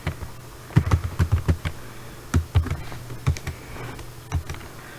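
Typing on a computer keyboard, with distinct, fairly close keystrokes coming in uneven bursts and short pauses, heard on their own.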